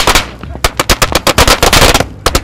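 Consumer fireworks (Kings Ransom) going off in Moapa, a rapid loud crackling barrage of sharp pops in quick bursts, close and dominant, with a brief gap near the end.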